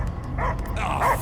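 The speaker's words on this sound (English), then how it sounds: "I hear only barking." A dog barks in the Guardians of the Galaxy video game: a few short, muffled barks and yips rise over a steady low rumble of game ambience, with no voices.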